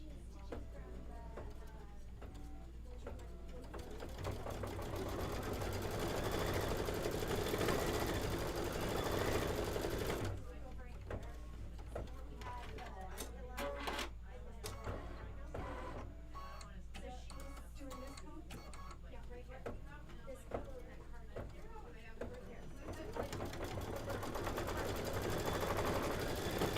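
A sewing and embroidery machine stitches a Kimberbell event kit, a dense, fast mechanical rattle that runs steadily through the whole stretch with a few brief breaks, while people talk over it.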